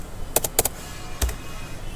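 Keystrokes on a computer keyboard while entering data in Tally accounting software: two quick pairs of clicks, then a short isolated pair, close and crisp, with no talking.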